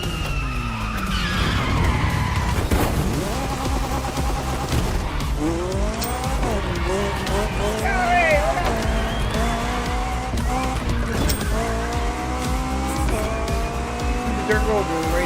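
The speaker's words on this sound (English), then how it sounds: "Dirt road with a race car." A race car in a video game skids and slides on a dirt road, tires squealing repeatedly as the engine revs up and down, loud and close throughout with a voice speaking over it.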